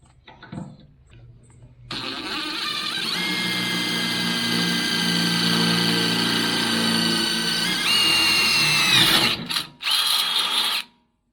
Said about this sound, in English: I've got my 5/16 inch drill bit, and I'm going to go ahead and drill this out